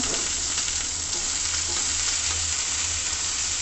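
Spices, garlic, ginger, tomato and mint frying in a pan, a steady close sizzle that holds evenly throughout with no one speaking.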